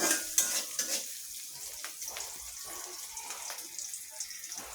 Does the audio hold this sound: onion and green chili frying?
yes